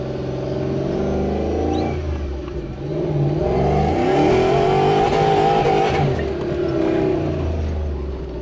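A deep Toyota Hilux 4x4 pickup engine, a 1UZ V8 with an M90 supercharger, revs hard, climbing in pitch and volume, dipping briefly, then roaring up again with a supercharger whine over the rumble.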